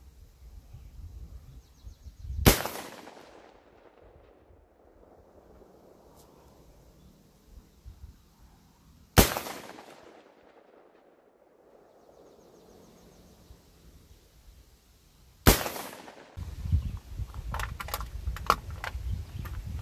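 A shotgun fires 3-inch slugs three times, a few seconds apart, each a loud sharp blast with a short ringing decay; outdoors with light wind noise between shots.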